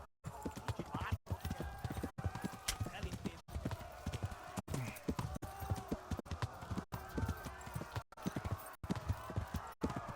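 Horse hooves clip-clop steadily while riding in the game Kingdom Come: Deliverance (Xbox Series S), a quiet rhythmic trot running for the whole stretch with an occasional whinny and a player talking over it.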